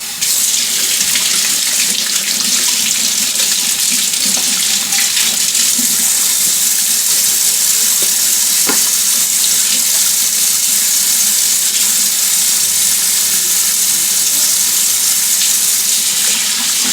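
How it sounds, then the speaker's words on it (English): Tap water runs steadily into a kitchen sink while hands are washed under it, a loud, close, continuous gush with faint splashing changes and no talk throughout. "I'm going to wash my hands to do it"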